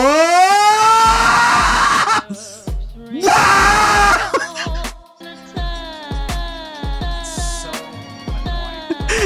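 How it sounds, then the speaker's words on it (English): A loud, harsh distorted human scream, sustained and strained with crackling overload, broken into a few long bursts mixed with yelling and shouting voices. "That distortion scream. It's terrible."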